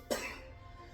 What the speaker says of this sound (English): Still got a cough from the COVID,